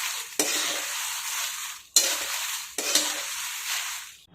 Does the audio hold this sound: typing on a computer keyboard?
no